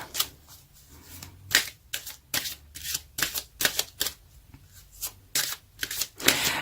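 Tarot cards being shuffled by hand, a deck riffled in quick repeated bursts of crisp papery slaps and flutters, close and fairly quiet, with no talking.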